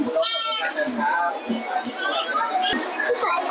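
A goat bleats at the animal area of Lat Mayom floating market, a couple of short wavering cries near the start over a busy crowd, with people talking throughout.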